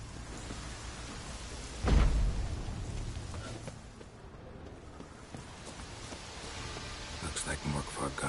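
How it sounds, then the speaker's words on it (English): Rain in The Witcher 3 video game, a steady hiss of falling rain with a deep thunder rumble rolling in near the start, fading under continuous downpour. "Looks like rain."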